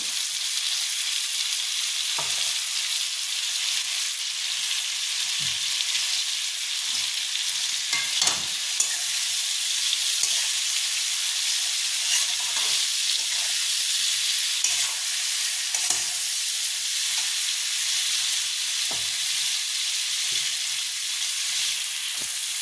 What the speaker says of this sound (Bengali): কেটে রাখা বাঁধাকপিগুলোকে আস্তে আস্তে আমি দিয়ে দেবো